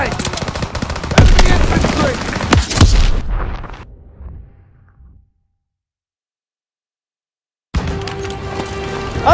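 Call of Duty WWII battle gunfire: dense, loud machine-gun bursts and heavy booms fill the first seconds, then fade into rumbling debris and silence before distant combat noise returns.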